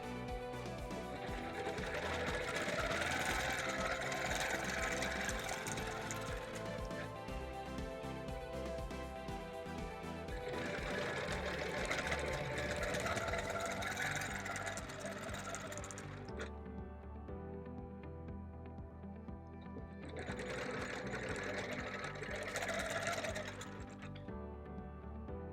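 A quilting sewing machine hums in long continuous runs across a bird panel quilt, pausing briefly between passes, the motor steady and fairly quiet with faint mechanical clatter.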